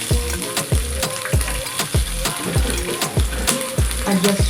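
Chopped onion sizzles steadily in hot oil in a pan while a utensil scrapes and knocks against it in a rough, repeated rhythm throughout.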